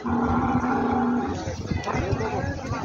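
A bull gives a deep, drawn-out moo nearby, followed by a noisy crowd of people and other animals at the busy Khandoba bull market in Parbhani.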